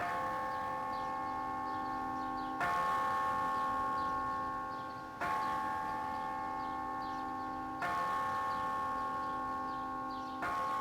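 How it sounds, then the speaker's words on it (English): Church bell tower chimes at Our Lady of Victory in Chicago play a familiar song as steady sustained tones through a bell-tower sound system, with the melody notes changing in regular phrases roughly every few seconds, loud and without talk. "The chimes of familiar songs were enjoyed by the neighborhood for many years."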